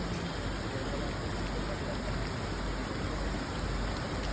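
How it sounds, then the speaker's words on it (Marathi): Heavy morning rain pours steadily around a village house in Ratnagiri, Konkan, a dense, even roar of water with no pauses. "सकाळ झाली आणि धो पाऊस सुरू झाला."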